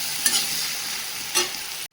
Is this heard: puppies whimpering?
no